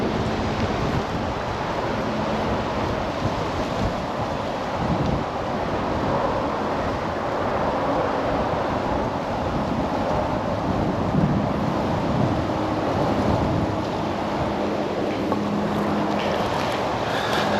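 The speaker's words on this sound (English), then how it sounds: "It's windy, it's real windy." Strong wind gusts across an open pond, buffeting the microphone with a loud, steady roar and rumble that rises and falls slightly over the whole stretch, no speech.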